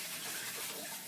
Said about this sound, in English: I'm just going to rinse out the bowl I previously used.